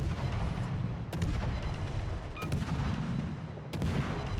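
Naval gun salvos from World of Warships around a T10 Pan-Asian destroyer, sharp booming shots striking at intervals over a low, constant rumble of battle.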